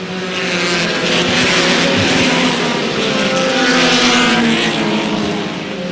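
Race cars roaring around an oval track in pre-season racing, engines running four wide: a loud, continuous, dense engine roar that swells and holds through the whole stretch with no speech.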